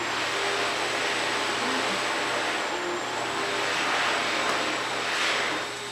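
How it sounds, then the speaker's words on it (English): A hand dryer runs steadily throughout, a loud broadband whoosh with a faint high whine, close by and uninterrupted, with no talking over it. "That's our hand dryer."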